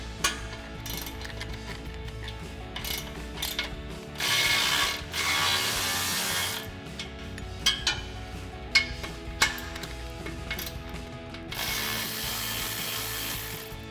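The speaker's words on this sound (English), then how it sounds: "using our 13mm socket and a 6-inch extension, we'll go ahead and loosen up these two flange bolts here" Ratchet with a 13mm socket on a 6-inch extension loosening exhaust flange bolts on a 2015-2024 EcoBoost F-150, close rapid clicking in repeated bursts with brief pauses and a few clanks.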